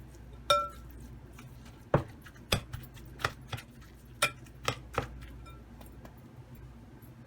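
A utensil clinks and taps repeatedly against a bowl while qeema ingredients are mixed, with about a dozen sharp, irregular knocks and quiet gaps between them.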